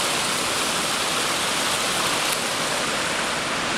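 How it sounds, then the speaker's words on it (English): Waterfall on the Ellis Brook Valley 60-foot falls trail, a steady full-band rushing roar of falling water with no breaks or voices. "There's got to be a way to get to the bottom of that waterfall"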